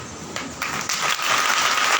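A church congregation bursts into applause during a Sunday prayer service, with the clapping swelling from sparse to a full, steady roar over two seconds.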